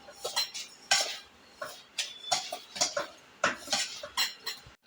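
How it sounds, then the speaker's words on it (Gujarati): A spoon mixes semolina and sour yogurt in a bowl, making rhythmic clinks and scrapes against the bowl in repeated close strokes, with no voices. "ખાટું દહીં લેવાનું છે અને દહીં આપણે મિક્સ કરી દઈશું બરાબર."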